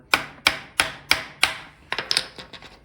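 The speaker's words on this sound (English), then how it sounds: "just tap it out with the hammer" A hammer strikes metal five times in a steady rhythm, sharp ringing taps tapping out the rear axle of a Kawasaki KLX 140 dirt bike, followed by a quicker cluster of lighter knocks and clinks.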